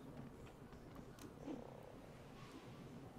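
A frog creature croaking in the video game Ark, a faint low purring croak amid soft game ambience, with a slight swell midway and no talk.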